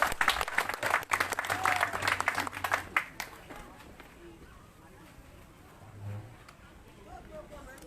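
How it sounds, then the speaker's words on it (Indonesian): Audience applause at the opening of a Papua orchid and ornamental plant exhibition in Jayapura, greeting the Moy community: a few seconds of loud, dense clapping from a crowd that fades into murmuring hall noise and a brief voice. "Boleh kita aplaus untuk masyarakat Moy."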